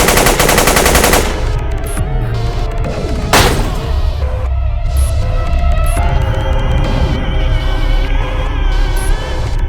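Continuous SMG fire from the video game Gungrave: OD, a dense rapid stream of gunshots layered with booms and a low throbbing hum, loud and unbroken for nearly ten seconds with no talk.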